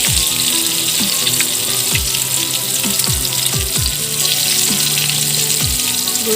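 Cauliflower fries in a pan of oil, hissing and sizzling steadily with repeated popping crackles throughout, close and loud, with no one talking.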